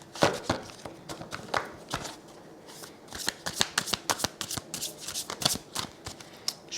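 Tarot cards are laid out on a table, giving a run of quick crisp slaps and flicks, some single and some in clusters, close and fairly loud with short pauses between them.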